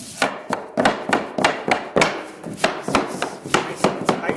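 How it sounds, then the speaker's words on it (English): A hammer knocks a hardwood floorboard into place in a quick, steady series of sharp knocks, about a dozen blows, close and loud with no talking. "let's grab hammer and want to knock this piece into place."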